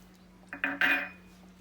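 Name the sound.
mixing aloo matar paneer curry in a pan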